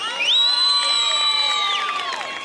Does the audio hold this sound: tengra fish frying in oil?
no